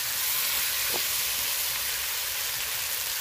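Mutton sizzles as it is sautéed in a pan with little oil and spice, a steady, loud hiss of frying with one brief scrape of stirring near the start.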